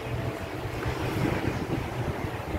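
Steady wind rushes past the microphone with a low buffeting rumble, continuous and fairly loud, with a faint wash like surf underneath.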